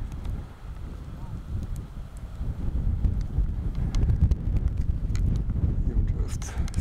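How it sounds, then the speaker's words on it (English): Wind gusting across an open model glider contest field, a steady low buffeting rush on the microphone that grows louder, with someone talking over it. "Wind is picking up now."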